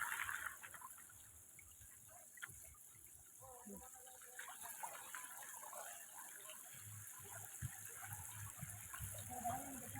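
Plenty of water flowing outdoors, a soft continuous rushing wash heard faintly and steadily throughout, with scattered low rumbles and a voice talking over it.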